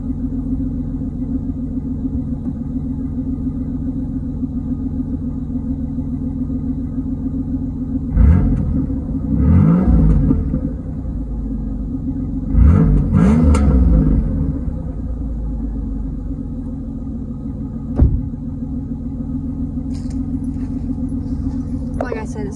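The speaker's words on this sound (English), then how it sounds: "we'll sit you guys down and we'll get an exhaust clip" A 1998 Buick Riviera engine with stock exhaust and manifolds idles with a steady low rumble, close by, with a couple of brief swells and a sharp click partway through.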